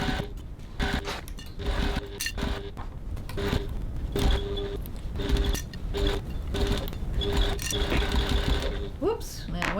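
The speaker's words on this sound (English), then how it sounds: "now we're going to stitch the second side" A sewing machine sews the second side of a crossbody bag with a regular straight stitch, its mechanism clicking and whirring in short repeated bursts with brief pauses between them, close by.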